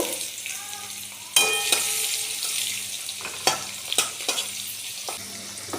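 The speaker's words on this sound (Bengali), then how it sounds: "কিছুটা বিনস ভেজে নেব" Green beans frying in a pan while cooking vegetable pulao, a steady close sizzle with sharp clinks and scrapes of stirring throughout, with no talk.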